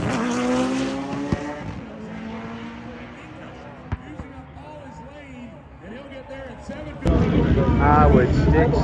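A Mitsubishi Eclipse race car driving at speed, the engine revving and shifting with tire squeal, up close and loud, turning into a harsher burst of noise near the end, with people talking over it.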